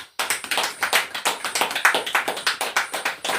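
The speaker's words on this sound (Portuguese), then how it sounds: "Dê uma linda salva de palmas no nome de Jesus." A church congregation breaks into applause, a brisk run of sharp, evenly spaced claps that starts suddenly and keeps a fast, steady rhythm, fairly close and dense.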